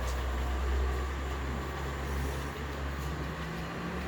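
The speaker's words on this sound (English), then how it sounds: "recording the trains going past" Model trains run past on a layout, a steady low rumbling whir with a faint rising hum, close and continuous with no talking.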